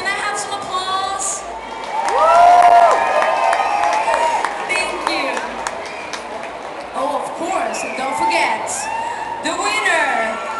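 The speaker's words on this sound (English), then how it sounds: "Can I have some applause?" Crowd cheering and applause at a pole dance competition, a broad wash of shouts and whistles with clapping underneath, loudest near the start and continuing steadily throughout, with voices mixed into the noise.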